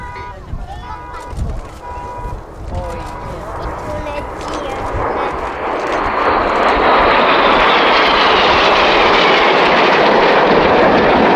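RAF Red Arrows Hawk jets fly a display at Kauhava Airshow, a jet roar building from a distant rumble to a loud sustained blast, with a commentator talking over the start.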